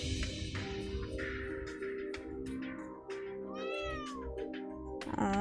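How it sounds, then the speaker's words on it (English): A cat meows a few times in the game Trails of Cold Steel III, with the meows rising over a busy mix of game music and ambience. "That's cat."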